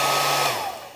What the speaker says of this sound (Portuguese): E para isso a gente vai usar um secador de cabelo só para